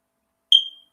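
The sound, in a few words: smoke alarm beeping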